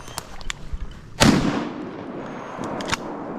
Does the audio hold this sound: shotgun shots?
yes